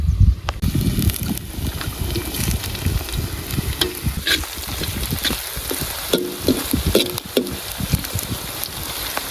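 Garlic and finely chopped green chillies frying hard in hot oil in a pan during an egg kheema masala cook in a village, a loud continuous sizzle with scraping stirs throughout.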